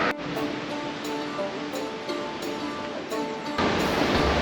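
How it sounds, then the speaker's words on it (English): Waves wash steadily in a bay, a continuous broad rush of surf heard from a distance that swells louder toward the end, with no voices over it. "there's a couple of waves right out here in the bay"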